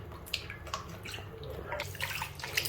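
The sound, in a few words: yarn being washed and squeezed in water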